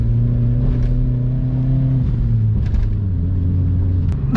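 A Vauxhall Corsa's engine hums low and loud from inside the car as it accelerates on the road, the tone climbing steadily, dipping at a gear change, then rising again under road rumble.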